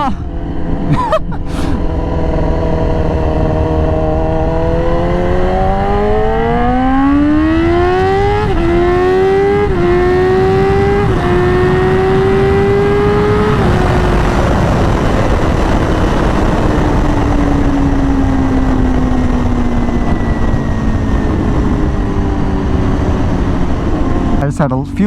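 Yamaha R6 sport motorcycle accelerating hard with a rising, high-pitched engine whine through several gear shifts, then easing off; loud and close-up with constant wind rush, brief voice at the start.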